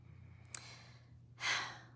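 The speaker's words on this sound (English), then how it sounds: "release it through pursed lips, like you're blowing out a candle" A slow breath released through pursed lips, like blowing out a candle, as a calm soft whoosh during a breathing exercise, preceded by a faint inhale, quiet and close with a low hum underneath.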